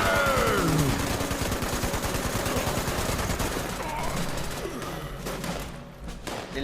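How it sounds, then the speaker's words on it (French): Gunfire rattles in Fallout 76, dense and rapid like automatic weapons in a firefight. It is loud for the first few seconds and then thins into scattered shots and background noise. "Essayez de tirer sur les kamikazes, comme ça vous pétez sa bombe pour pas qu'ils viennent."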